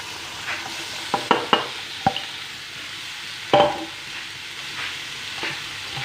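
Chickpeas fry in hot oil with turmeric, a steady sizzle with short scraping knocks as a spatula stirs them now and then, close and unaccompanied.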